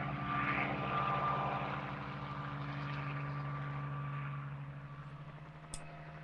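A helicopter chases wild horses in Nevada, its steady rotor thrum and engine drone loud at first, then easing slightly, with no talk.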